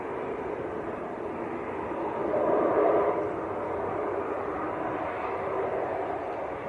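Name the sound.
ATR turboprop aircraft arriving at Manchester from Guernsey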